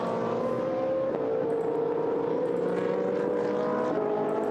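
GT race cars circling the Algarve circuit, a steady high engine drone from a car at speed, the pitch holding then dipping slightly as it shifts and passes.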